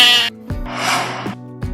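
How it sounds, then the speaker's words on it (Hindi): Sheep bleating loudly and close by, a couple of wavering, nasal cries separated by short gaps. "Sheep. This is sheep."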